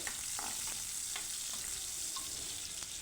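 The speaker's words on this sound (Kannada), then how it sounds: "ಈರುಳ್ಳಿ ಸ್ವಲ್ಪ ಫ್ರೈ ಆಗೋ ತನಕ ಚೆನ್ನಾಗಿ ಬಾಡಿಸ್ಕೊಳ್ಬೇಕು." Chopped onion fries in oil in a kadai for a Kannada-style peas gravy, giving a steady close sizzle with a few light stirring scrapes and no talk.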